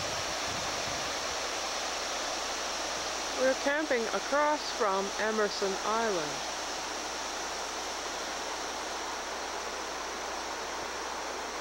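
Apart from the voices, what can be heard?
river flowing down from a lake beside campsite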